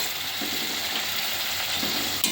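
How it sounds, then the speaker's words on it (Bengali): Ground turmeric, chilli, cumin and coriander paste fries in oil with a steady, close sizzle, broken by occasional stirring scrapes in the pan. "এবার মশলাটাকে কিন্তু ভালো করে কষাতে হবে"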